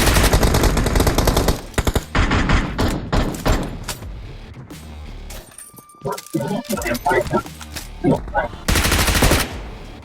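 Rapid gunfire from BGMI (PUBG Mobile) rattles in dense automatic bursts with sharp single shots and thuds, loud and close, with a voice talking over parts of it.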